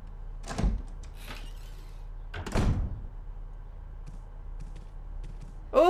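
A heavy door in Resident Evil HD Remaster opens with a couple of deep, close thuds and a creaking scrape over a low ambient hum, ending with a sharp louder knock.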